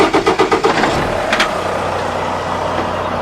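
A 2024 Volvo VNR truck with a D13 diesel engine starts and settles into a steady, loud idle, a few rhythmic cranking pulses giving way to a constant low rumble.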